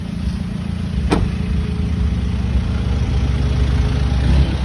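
An Isuzu MU-X engine, a 2017 model, idles steadily after a push-button start, a low continuous rumble close by with one brief sharp click near the start and no talking.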